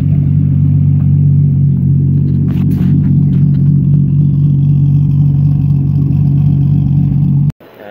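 Toyota Supra with a 1JZ engine runs with a loud, steady low-pitched drone close by, with a few brief clatters, before the sound drops away sharply near the end.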